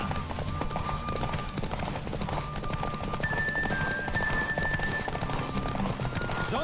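Horse hooves gallop steadily in The Witcher 3, a quick clip-clop rhythm running the whole time beneath game music, with a faint whinny possible but not distinct.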